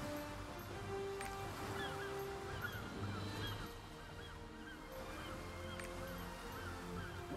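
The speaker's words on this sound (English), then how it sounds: "What is this seagull sound?" Seagull cries from a video game play repeatedly over a steady bed of surf and waves, the calls faint and scattered across the background.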